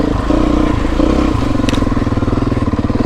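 A Beta 350 dirt bike runs close by on a trail, its engine rasping and pulsing unevenly as it revs, with rattling and clattering from the ride.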